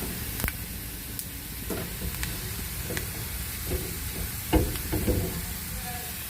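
Radhuni and cumin seeds sizzle in hot oil, with a steady soft hiss broken by scattered clicks and scrapes of stirring; the frying sits close and fairly quiet.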